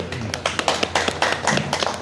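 Guests clap to welcome someone at a birthday celebration at Manav Sewa Ashram in Hemja, Pokhara: a brisk, uneven patter of hand claps from a small group, moderately close and fairly quiet.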